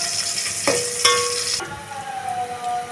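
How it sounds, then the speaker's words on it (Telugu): Curry leaves and dried red chillies frying in hot oil for tomato rasam, a steady bright sizzle with a brief stir and a rising crackle as the ingredients hit the pan. "కరివేపాకు వేసుకున్న తర్వాత రెడ్ చిల్లీస్ వేసేసుకున్నాము. ఎండుమిర్చి వేసేసుకోవాలి. వీటిని బాగా ఫ్రై చేసేసుకున్నాము."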